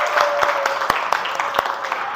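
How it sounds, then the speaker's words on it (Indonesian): Classroom applause for a student, a short round of dense clapping from a group of pupils, with a few louder claps close by and faint voices underneath. "Belum disebutkan jawabannya, kita tepuk tangan dulu buat dia."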